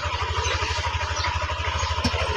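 A Yamaha Aerox 155 scooter engine, previously hard to start, now runs at idle with a fast, even low putter of regular firing pulses close by, plus a brief clatter near the end.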